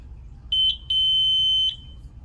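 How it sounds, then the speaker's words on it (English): A replacement horn buzzer on a mobility scooter sounds in two short high beeps, then one long steady electronic tone of under a second, close and loud over a low background hum. "The scooter on, press the horn,"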